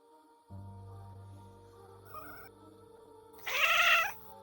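A cat lets out one loud, drawn-out meow near the end, rising above quiet, eerie background music with a low steady drone.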